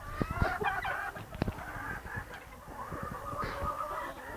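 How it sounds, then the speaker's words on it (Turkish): A flock of hens and roosters clucks and calls in short bursts at close range, with sharp rustling and pecking noises mixed in and no talking. "Horozlarımız maşallah bayağı güzel."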